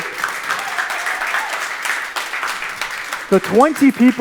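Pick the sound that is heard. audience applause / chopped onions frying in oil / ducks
audience applause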